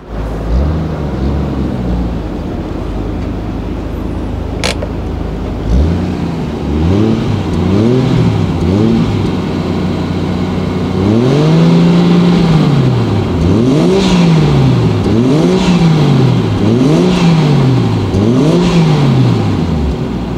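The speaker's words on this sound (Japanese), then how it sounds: "じゃああとはマフラーの音を、まあ、もう売れちゃってる車なのでそんなに吹かさないんですけれども、はい、まあ、軽くやりましょう。" Toyota Chaser Tourer V JZX100 with a road-legal muffler, revved lightly several times: a throaty six-cylinder exhaust rising and falling in repeated blips over a steady idle, close and fairly loud.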